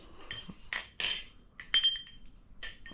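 A Spider balisong butterfly knife being flipped, giving a quick run of bright metallic clicks and clinks in irregular bursts, close and fairly quiet with no talking.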